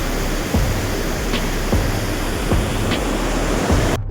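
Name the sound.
Malana river water rushing downstream under pressure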